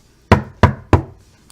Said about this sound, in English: just 3 normal knocks